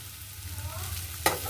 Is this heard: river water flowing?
no